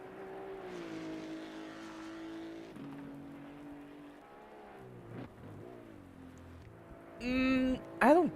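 Maserati race car in a sim racing game on the German M-Prix track, its engine a steady droning whine under commentary voices, ending with a couple of sharp, loud high-pitched bursts.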